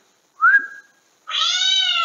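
A person whistles a short rising note that holds briefly, and after a pause a loud electronic cat meow alert from a phone answers, long and harmonic.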